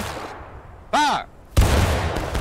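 Musket volley in the Civil War game War of Rights: a shouted command, then a loud, sudden burst of combined gunfire that rumbles on close by.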